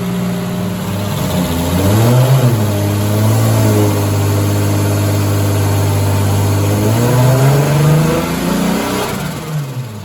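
A Toyota 1JZ/2JZ engine revs hard through a pull while a fuel pressure drop problem is being tested. The tone rises, holds a strong sustained drone and then falls back toward idle, loud and close, with no talking.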